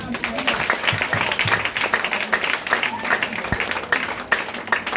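Church congregation applauding during a French-language sermon, a steady patter of many hands clapping at moderate distance, with voices faintly underneath.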